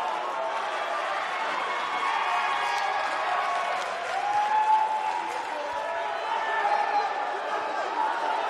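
A steady, dense roar of an arena crowd cheering and applauding in the WWE 2K19 wrestling video game, holding at one level throughout with slight swells.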